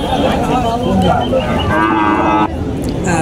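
Cows and cattle mooing at Alamdanga livestock market, a large cattle hat in Bangladesh, with several overlapping low calls and busy crowd noise throughout, loud and close.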